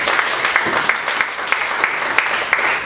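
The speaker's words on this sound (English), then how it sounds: "palakpakan natin si Lord" A church congregation applauds in a dense, steady patter of hands clapping together, filling the room evenly with no voices breaking through.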